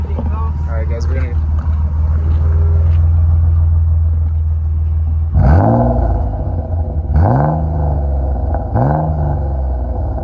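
A BMW M3 fitted with an Authority stainless steel exhaust idles with a loud low rumble, then is blipped three times, each rev sweeping up sharply and falling back, with brief voices at the start.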